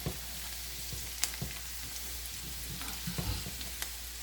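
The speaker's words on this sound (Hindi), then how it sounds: "जैतून के तेल से मैं तड़का लगा रही हूँ, तो इसको फिर हम हल्की आंच पे ही फ्राई करेंगे" Tadka frying in olive oil over a low flame for a whole moong dal, a soft, even sizzle with occasional faint clicks from stirring, quiet and without talk.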